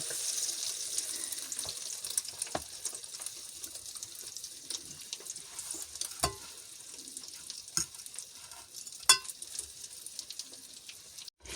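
Soft sizzling and crackling of fish fillets frying in a pan, with occasional sharper pops and clinks scattered throughout; no talking.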